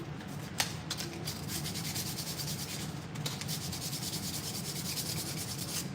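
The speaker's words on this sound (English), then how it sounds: "I'm just taking the sandpaper and I'm sanding out, this is 400 grit, I'm sanding out kind of the crud that's in here" A Tesla Model 3 brake part is sanded by hand with 400-grit sandpaper to clear out crud, giving quiet, steady back-and-forth rasping strokes in a close, even rhythm, with no talking.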